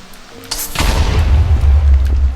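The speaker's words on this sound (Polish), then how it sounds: "A wybuchnij." An explosion in the video game Minecraft, a sharp crack followed by a deep rumbling boom that holds loud and heavy for about two seconds.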